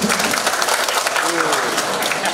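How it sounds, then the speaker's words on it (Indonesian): A crowd applauds steadily throughout at a university talk show in Palembang, dense clapping filling the room with a voice briefly audible underneath. "Tepuk tangan dulu"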